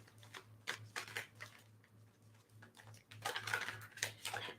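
Bicycle playing cards being shuffled close by, a series of quick riffling bursts and soft snaps spread over several seconds, with a steady low hum running underneath.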